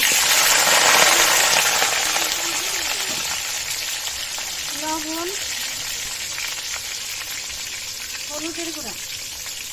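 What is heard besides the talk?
potatoes frying in a kadai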